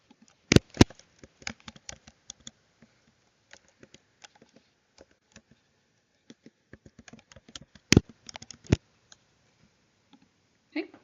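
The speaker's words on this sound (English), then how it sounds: "So I'll type here transcription off." Keys clatter on a computer keyboard in irregular bursts of close, crisp clicks, with a few louder sharp taps and quiet pauses between runs of typing.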